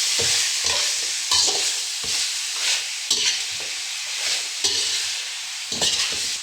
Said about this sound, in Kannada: ಸ್ವಲ್ಪ ಹಸಿ ಮಟನ್ದು ಹಸಿ ಸ್ಮೆಲ್ ಹೋಗುತ್ತೆ ಅಂತ ರೋಸ್ಟ್ ಮಾಡ್ಕೊಳ್ಳೋಣ ಅಷ್ಟೆ